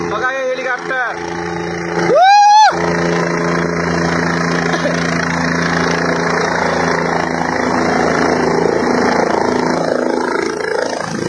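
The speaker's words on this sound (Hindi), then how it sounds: "बघा हे हेलिकॉप्टर।" A passenger helicopter at Prayagraj drones steadily and loudly throughout, with a brief vocal sound early on.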